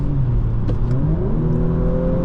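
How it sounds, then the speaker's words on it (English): A 2020 Audi S4 3.0T engine hums loudly from inside the cabin, its pitch rising smoothly as it revs and accelerates while driving. "my favorite part, I think, is the engine sound."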